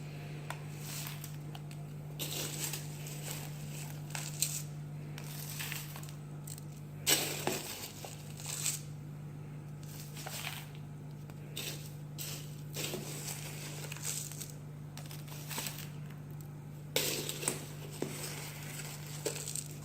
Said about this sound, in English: You just fill it in around, if I can do this one-handed to show you, without letting it fill too high up on the stem.